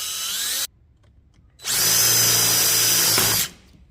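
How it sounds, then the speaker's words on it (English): A power drill with a 1/4 inch bit bores a small hole through the metal of a Harley Cruise Drive 6-speed transmission seal, a loud close whine starting after a short burst and steady pause, running about two seconds. "I use a 1/4 inch drill bit on this right here, and we're just going to drill a very small hole in this seal"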